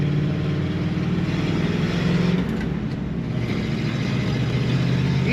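Exhaust of a 1951 Mercury Custom two-door, a steady deep engine rumble with a low, even idle throb running unbroken and fairly close.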